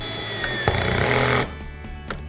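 A screwdriver drives a self-tapping screw into a plywood cajon, a loud buzzing whir lasting about a second and a half, followed by a few faint clicks and knocks.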